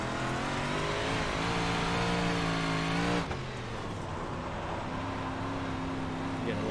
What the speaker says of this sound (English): Getting a little too excited and throttle happy over here.